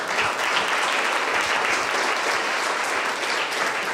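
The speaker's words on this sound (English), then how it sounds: "Give it out another round of applause." Audience applause at a crypto meetup: dense, even clapping from a roomful of people, loud and sustained for the whole stretch without letting up.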